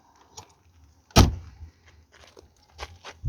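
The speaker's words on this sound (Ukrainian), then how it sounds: "Ось так у нас відкриваються двері, закриваються." Doors of a VAZ 2106 car opening and shutting: a sharp loud slam near the middle, followed by softer latch clicks, handle rattles and thuds, with no talking.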